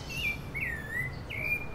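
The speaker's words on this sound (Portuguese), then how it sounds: "O Pássaro tá tentando me contar uma melodia" A songbird whistles a short run of sliding, tuneful notes in three phrases, fairly clear above a soft steady background hum, with no one talking.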